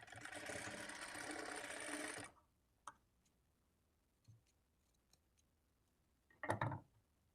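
A sewing machine stitches a hanging tassel for a blouse or lehenga in a steady, close whir that runs for about two seconds and then stops, followed by a few faint clicks and a brief rustle of handling.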